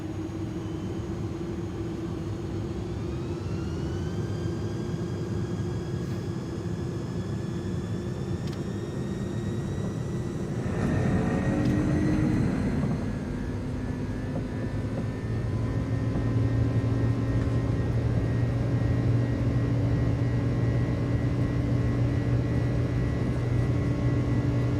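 Airliner in Microsoft Flight Simulator 2020, apparently an iniBuilds Airbus, releasing its brakes and beginning to roll: a steady loud engine drone with rising turbine whine, a brief clunky burst midway, then engine tones building as it departs.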